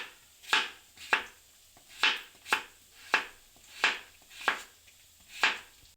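A knife slices papaya thinly on a cutting board with crisp, evenly spaced cuts, nine or ten strokes at a steady rhythm, close and clear in a quiet kitchen with no talking.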